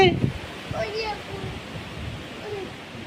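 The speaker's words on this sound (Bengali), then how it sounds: "দেখো, খুব ঝড় উঠেছে।" A broad, steady rush of wind blows throughout, with brief faint voices and scattered higher sounds over it.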